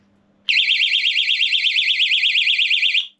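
A portable alarm set to low sensitivity gives a piercing warbling wail that starts abruptly and sounds continuously at high pitch for about two and a half seconds, then cuts off.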